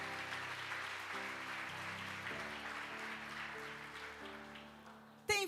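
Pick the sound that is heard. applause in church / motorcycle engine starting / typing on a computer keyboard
applause in church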